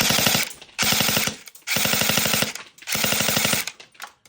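A Novritsch SSE18 airsoft pistol fires full auto in three rapid bursts, each a dense, buzzing rattle lasting under a second, with short pauses between them.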